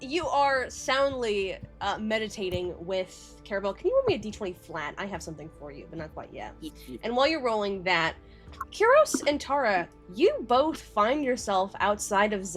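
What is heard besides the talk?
No distinct noise like a dog, phone or traffic.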